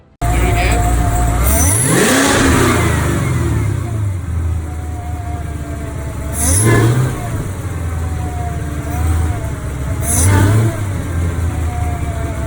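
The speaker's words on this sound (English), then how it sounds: "there is a lot more new noise coming from that intake than before" A 2016-2024 Chevrolet Camaro engine drones steadily while driving, with rush from a Roto-Fab 5-inch Big Gulp intake rising and falling as it revs up and eases off, close and loud throughout.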